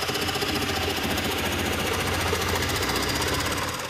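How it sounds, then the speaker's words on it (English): A power tool works metal in a summer-camp makerspace, giving a loud, continuous rapid rattling and buzzing that holds steady for several seconds, close and with no talk. "she's welding, cutting, and hammering her way through the summer at the Mint Makerspace"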